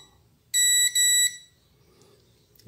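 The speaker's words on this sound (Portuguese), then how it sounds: "eu ponho aqui o multímetro nessa escala de bip aqui" A multimeter set to continuity gives a loud, high electronic beep while probing a capacitor on a water-damaged Xiaomi Redmi Note 8 phone, sounding as two close tones with a tiny break between them over quiet background hiss.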